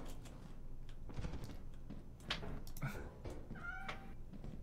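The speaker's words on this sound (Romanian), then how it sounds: "Pisică." A cat meowing in modded Lethal Company, several short meows standing out over faint background clicking and game noise, fairly quiet overall.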